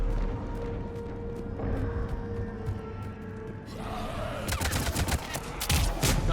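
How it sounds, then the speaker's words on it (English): Mass Effect 3 combat plays out with bursts of gunfire and sharp grenade blasts, loud and close. Firing cracks crowd the second half, over a low rumbling battle bed. "Grenades."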